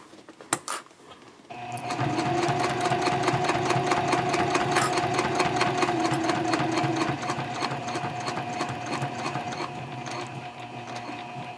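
A sewing machine stitches a city messenger bag, running at a steady fast rhythmic whir with a mechanical clatter after a few brief handling clicks. It sounds close and continuous for about ten seconds, slowing slightly toward the end.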